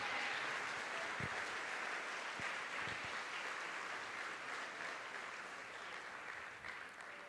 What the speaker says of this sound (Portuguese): Erga suas mãos e aplauda ao Senhor.